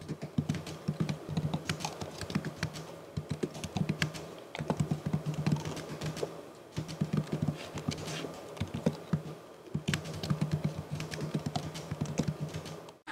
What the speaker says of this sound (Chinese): 它打字都算是几有手感，回弹同埋它的力度咧都是比较强的